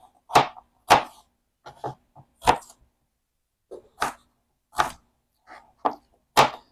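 A knife chops through sweet potato into cubes on a board, sharp irregular thwacks striking about a dozen times with short gaps, close and clear with no talking.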